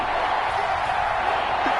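A stadium crowd cheering in a PS4 American football video game, a dense continuous roar of many voices held at steady volume throughout.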